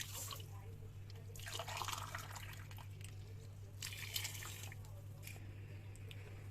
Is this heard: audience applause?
no